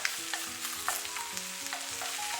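Chinese cabbage stir-fries in a hot wok for a restaurant-style fried tofu dish, giving a close, steady sizzle broken by scraping stirs of the spatula.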